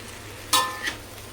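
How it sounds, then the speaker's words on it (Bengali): Water spinach fries in a full pan, a soft low sizzle under two quick bright utensil scrapes or clinks. "কলমি শাক ভাজাটা প্রায় হয়েই গেছে"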